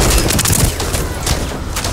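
Rapid bursts of gunfire in The First Descendant, a loud, dense volley of overlapping shots with booming low thumps, continuing steadily across the moment.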